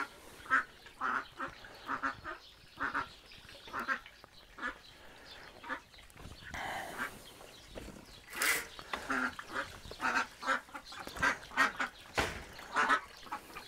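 Repeated quacks from decoy ducks and a drake in uneven bursts, fairly close, with a few louder harsher calls toward the end; no talking.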